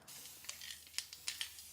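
Cooking spray hissing into a 9x13 baking pan in short bursts, several quick sprays close by and fairly soft, with no one talking.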